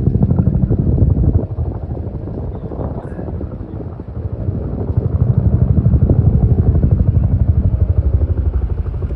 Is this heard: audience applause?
no